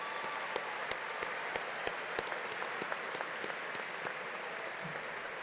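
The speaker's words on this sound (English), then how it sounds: "Join me in giving yourself a round of applause." Graduates and guests at a spring commencement ceremony applaud steadily, a dense even wash of clapping from a large crowd with a few sharper nearby claps standing out.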